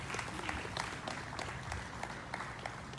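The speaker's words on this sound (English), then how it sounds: "Let's give a big round of applause." A crowd at a Martin Luther King Jr. Day gathering on Maui claps in a steady, dense round of applause that carries on evenly, mid-distance and moderately loud.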